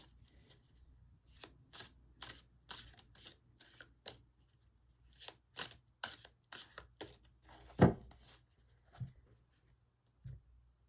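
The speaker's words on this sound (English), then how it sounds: "I'm not used to shuffling such big cards anymore" A deck of large, stiff tarot-style cards is shuffled in repeated bursts of crisp flapping and riffling, with pauses between, close by and fairly quiet.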